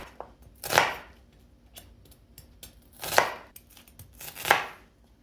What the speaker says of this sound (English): Take 1 onion and cut it into wedges